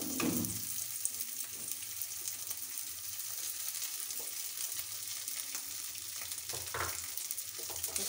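Grated potato fries steadily in a pan for a fasting snack, a continuous close sizzle with occasional soft stirring scrapes and no voices.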